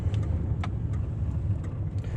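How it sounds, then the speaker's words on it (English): A Maruti Suzuki Alto K10 hatchback drives and takes a turn, a moderate, steady engine hum and road rumble heard from inside the car, with faint clicks and no talk. "Driving the Alto K10."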